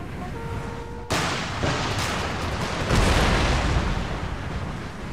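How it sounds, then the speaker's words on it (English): Heavy 8-inch mortar fire in the Empire: Total War battle game: after a brief quiet start, a dense, loud barrage of booming blasts and rumbling explosions rolls on without a break. "They deployed their 8-inch mortars here."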